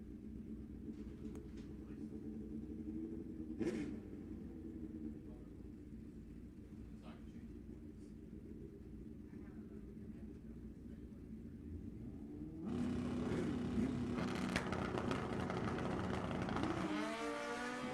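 Drag race cars launch down the strip with a rumbling idle under an announcer's voice. A sudden loud roar of acceleration follows, with engine pitch climbing toward the end.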